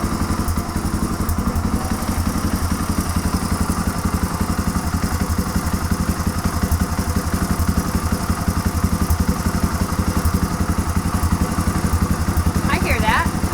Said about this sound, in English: So it doesn't run terrible, but listen to the idle. it will fluctuate.